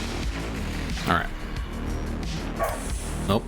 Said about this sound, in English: Nope, he's still going. He's still barking.